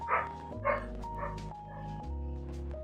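A loud pet dog barks four times in quick succession indoors, close to the microphone, with short sharp yaps and no talking over them.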